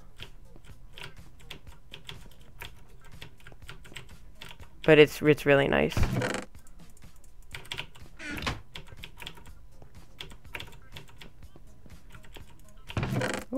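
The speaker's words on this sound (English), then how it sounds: "mechanical keyboard with Cherry MX Blue switches. Man, is it nice. It might be a little loud." Clacky keystrokes on a mechanical keyboard with Cherry MX Blue switches, typed in short scattered bursts with a denser, louder flurry partway through, heard close up alongside brief talk.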